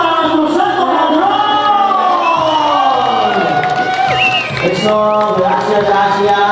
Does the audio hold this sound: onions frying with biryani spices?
no